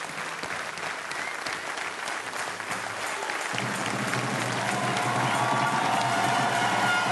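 Loud, sustained applause and some cheering from a large crowd at the Bocuse d'Or 2013 awards ceremony at Eurexpo, honouring Monsieur Paul, swelling fuller and steadier in the second half.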